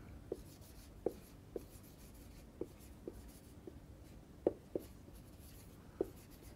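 Chalk or marker tapping and scratching on a board during a lecture: a series of about nine short, crisp taps at irregular intervals, fairly faint over a quiet room hum, with no talking.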